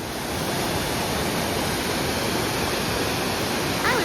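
A waterfall on the Wonderland Trail gives off a steady, dense roar of rushing water, constant and fairly loud, with no voices over it.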